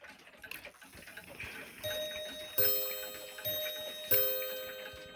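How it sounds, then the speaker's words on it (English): A Junghans Bim-Bam hanger clock's soft mechanical ticking and clicks of the striking train lead into two ringing strikes on its membrane gong, each bright metallic tone sustaining and slowly fading. "I'll trigger the striking from the front so you can see the striking train actually operate"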